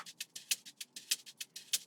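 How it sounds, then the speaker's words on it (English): Shaker loop from an FL Studio Afrobeats beat: bright, hissy shakes pulse in a steady rhythm, about four per half second with accented strokes, played alone at a quiet level. "is a shaker loop, the normal shaker loop we have"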